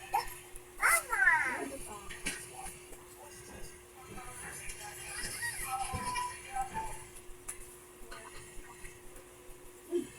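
A household dog gives a few short yips and barks in a busy family home, heard near the start under children and adults talking, with a steady electrical hum behind.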